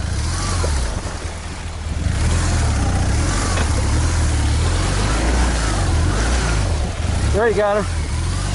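A vehicle engine labors hard to pull its rear end out of cross-rutted ground, producing a loud, continuous droning roar that holds for the whole stretch, with a short spoken remark near the end.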